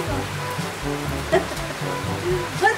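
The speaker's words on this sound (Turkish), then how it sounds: "Çok yağmur yağıyor." Heavy rain pours steadily outdoors at a village house, a broad continuous wash of falling water with a few louder drips and splashes standing out near the microphone.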